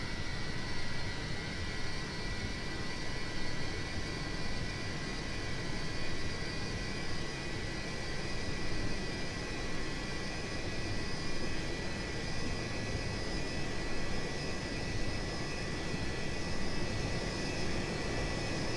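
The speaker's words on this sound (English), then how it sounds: "Those Olympus engines again taking quite a bit of time to spool up." Avro Vulcan's Olympus jet engines spooling up in a flight simulator, a dense steady roar with high whining tones held throughout, loud and continuous with no talk.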